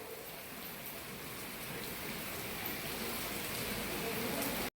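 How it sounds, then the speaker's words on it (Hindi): Rain falls steadily as a dense, even hiss, close and constant, growing slightly louder before cutting off abruptly at the end. "बारिश हो रही भगवान"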